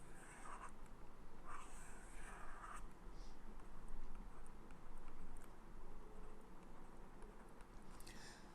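Chalk or marker strokes on a board as a diagram is drawn during a math lecture on groups, faint scratchy marks in short bursts over steady room hiss, with no voice.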